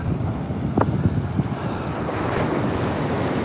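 Ocean surf breaking on Coney Island beach during a storm with water pushing above the normal high-tide line, a continuous broad wash of waves with wind buffeting the microphone.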